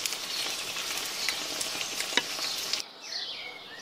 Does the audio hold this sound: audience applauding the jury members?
no